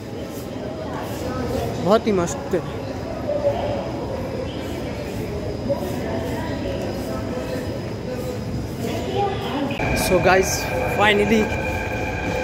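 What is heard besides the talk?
Lajpat Nagar metro station, Delhi, trains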